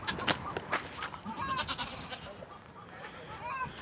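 Goats and kids bleating repeatedly, several overlapping calls near and farther off, with a busy barn background.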